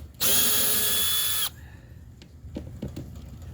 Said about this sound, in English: we're going to start taking the screws off the hatch